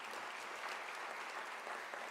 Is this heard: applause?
yes